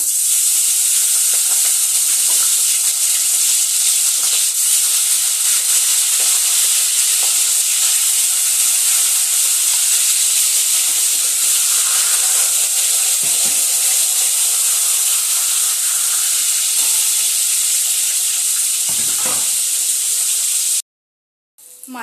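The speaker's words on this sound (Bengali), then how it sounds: "এবার মাছের মাথাগুলো এক এক করে ভেজে নেব।" Fish heads frying one by one in hot oil in a kadai, a loud, dense, continuous hiss and sizzle that holds steady for about twenty seconds before cutting off abruptly.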